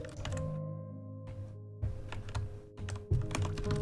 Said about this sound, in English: Click-clacking of my keyboard.